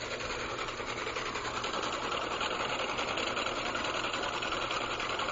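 An AC motor with a test rotor runs steadily, giving a continuous close whirring hum with a fine buzzing texture and no change in pitch or level throughout, with no talk.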